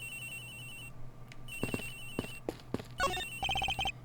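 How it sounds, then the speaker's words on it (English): Phone ringing in the Ace Attorney Investigations video game: a repeated electronic ringtone trills in short bursts over a low game hum, with beeps and interface blips layered on top. "Agent Hicks's phone! It's ringing from somewhere, sir!"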